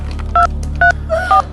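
Telephone keypad dialing tones as a call is placed to a doctor: three short, distinct two-pitch beeps spaced evenly over a steady low hum, with no talking.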